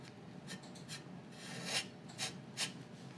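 A paintbrush scrapes paint across a reclaimed wood board in a handful of short, dry, raspy strokes at close range. The strokes come faint and unevenly spaced, with no one speaking.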